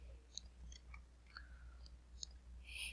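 A few faint, sharp computer mouse clicks at irregular intervals, close and quiet against a low steady hum.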